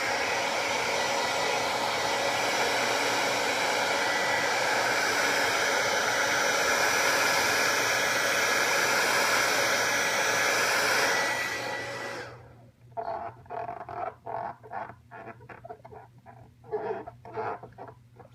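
A heat gun warms a wet-applied decal, blowing a loud, steady airy roar with a whine for about twelve seconds before cutting off, after which faint scattered rustles and handling taps follow.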